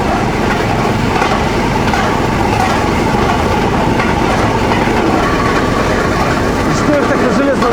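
A rail draisine running at about 42–43 km/h along the Alapaevsk narrow-gauge railway on new track, a loud continuous rumble and rattle of wheels on rails close up.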